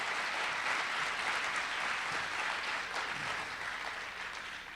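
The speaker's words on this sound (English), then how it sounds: "so let's give them a round of applause." Steady, dense applause from an audience honoring oratory competition finalists at a Martin Luther King Jr. event, sustained throughout and easing slightly toward the end.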